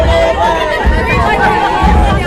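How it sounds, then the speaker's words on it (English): Dense crowd chatter along Main Street during a parade, a close, steady babble of many overlapping voices with no single speaker standing out. "you'll notice here there are a lot of crowds"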